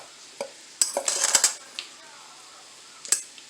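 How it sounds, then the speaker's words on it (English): A fork scrapes and scratches through freshly cooked rice in a pot, a few quick clustered metallic scrapes followed by one more brief scratch, close and clear with no speech. "Grab your trusty fork, and you're just going to fluff."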